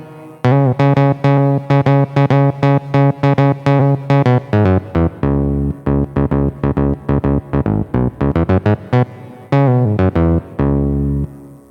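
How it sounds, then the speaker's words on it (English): Roland SH-09 monophonic analog synthesizer playing a bent-up note followed by its matching unbent note, a loud run of sustained, buzzy tones in repeated phrases with no talking. "if I play a note bent up and then match it with the matching note, it sounds like this"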